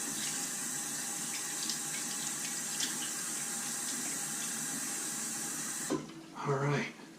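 A shaving brush is rinsed under a running tap after lathering homemade lye soap, a steady close hiss of water for most of the time, then a brief burst of splashing and sloshing as the brush is worked at the end.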